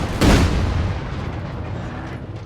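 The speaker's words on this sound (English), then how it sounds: "Shots going out." A loud, heavy artillery blast from the Company of Heroes 3 video game rings out with a sharp crack and rolls into a long rumbling decay, with no voices.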